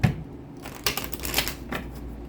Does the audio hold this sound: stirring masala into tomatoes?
no